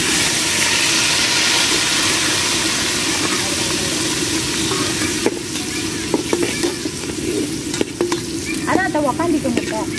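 Crushed shallots frying in a pan over a wood stove, a dense continuous sizzle with stirring scrapes, shifting partway through to a crackling, bubbling fry with sharp pops near the end; no talking.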